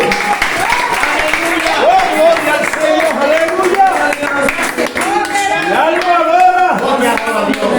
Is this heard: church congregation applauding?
yes